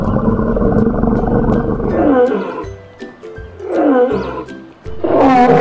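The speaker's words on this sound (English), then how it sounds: "Lion." A lion gives three deep, loud roars in a row, each swelling then fading, close and clear with nothing else competing.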